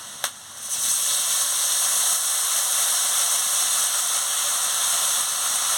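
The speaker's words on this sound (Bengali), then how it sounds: "দিয়ে মশলাটাকে ভালো করে কষিয়ে নিচ্ছি" Cumin, garlic, ginger and chili powder paste frying in a pan for a tilapia fish curry, a steady loud hissing sizzle that starts after a brief click and holds evenly throughout, with no talking.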